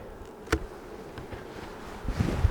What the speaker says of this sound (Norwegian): Masse bier i toppetasjen